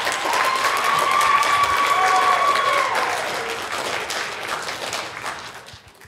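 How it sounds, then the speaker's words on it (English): A school concert audience at Lamoille Union Middle School applauds teacher assistants, a dense, loud wash of clapping with a few voices and cheers, swelling then slowly fading away over several seconds. "Can we give them a round of applause?"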